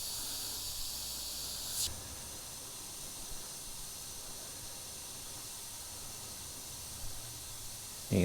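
An airbrush sprays paint with a steady, close, airy hiss that holds at an even level. It shifts briefly near the start and ends with a short louder burst.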